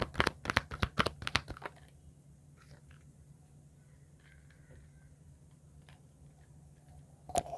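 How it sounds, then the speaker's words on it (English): Cards of an angel answer oracle deck riffled in a quick burst of crisp flutters at the start, then quiet handling noise with a faint room hum until a brief rustle at the end. "back with the angel answer oracle deck. Let's shuffle and have the message."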